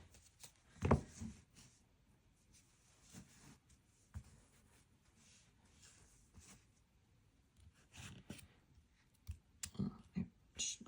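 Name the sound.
shuffling tarot cards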